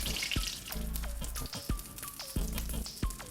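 Beef chunks and flour browning together in a pan for a roux in beef bourguignon, with a steady close sizzle and a few sharp spoon taps against the pan.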